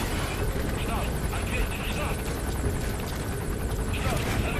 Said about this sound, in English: There's a helicopter somewhere, and yep, there he is. The helicopter is going to be a problem.